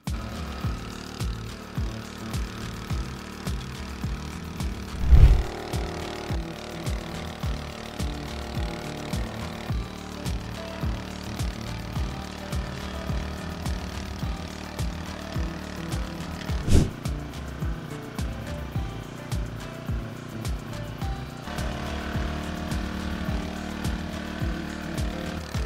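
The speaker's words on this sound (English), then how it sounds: "This machine is a Honda GP160 engine hoeing machine." A Honda GP160 engine on a hoeing machine chugs steadily at a moderate distance, a low pulsing farm-engine drone with a couple of sharp knocks along the way.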